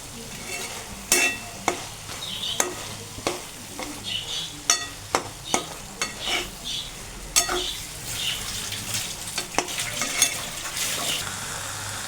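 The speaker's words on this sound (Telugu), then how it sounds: "గరం మసాలా ప్లస్ ధనియాల పౌడర్ అల్లం వెల్లుల్లి పేస్టు ఇవన్నీ వేసి ఒకసారి బాగా కలిపేద్దాం" Garam masala, coriander powder and ginger garlic paste being stirred in a hot pan, with repeated sharp spoon knocks and scrapes against the vessel over a light sizzle, close and rhythmic.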